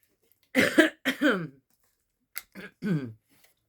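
A person coughs twice, pauses, then clears their throat with a few short rough bursts, close and distinct against silence.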